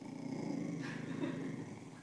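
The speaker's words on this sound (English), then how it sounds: "I'm giving my dog, look how angry he is." A dog growls angrily in a continuous, low, rumbling snarl, close but fairly quiet, lasting about two seconds with slight rises in intensity and no talking over it.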